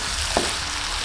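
Chicken leg pieces and vegetables sizzle steadily in a pan, and a brief scrape of stirring stands out near the start over the continuous frying hiss.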